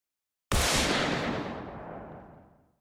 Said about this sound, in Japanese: 曇天に重苦しい銃声が鳴り響き、戦場の山野を切り裂いた。